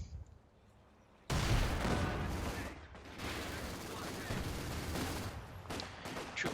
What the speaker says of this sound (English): Troop shooting away.